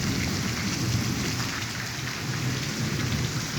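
Steady, dense rain falls near an airport with a constant close hiss and patter, and no voices.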